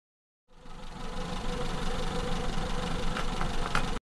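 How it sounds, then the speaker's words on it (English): A Maruti Zen car's carbureted engine idles at about 900 RPM, a steady, even mid-pitched hum that starts abruptly and runs without change until it cuts off. "Now let's keep the engine idling until it reaches operating temperature."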